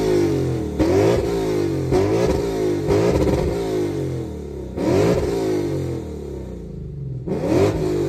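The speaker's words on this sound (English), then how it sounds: "I'm gonna do a couple revs" A Lexus RC F car engine revs up repeatedly, several rising surges with pauses between, loud and close, with no one talking.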